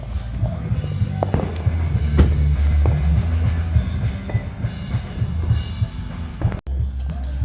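Backyard fireworks going off at a small Fourth of July celebration: several sharp, loud bangs and pops scattered irregularly over a low background rumble, with a few quieter crackles between them.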